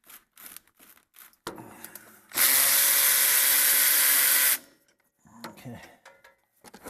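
A power tool or ratchet working on an 18 mm brake caliper bolt on a Mercedes W163 rear brake, one loud continuous whirring burst of about two seconds, close up, between short clicks and handling noises.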